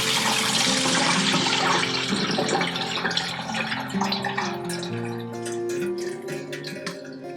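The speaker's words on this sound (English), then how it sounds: "So kind of drain out as much water as you can." Water draining from a container of broccoli sprouts, a loud rushing pour that tapers into lighter splashes and drips, close and alone with no voices.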